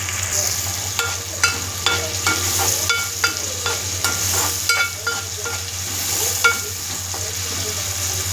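Aaku Kura leafy curry stirred in a pan over a steady oil sizzle, with a spoon scraping and clinking against the metal in a rapid, regular rhythm.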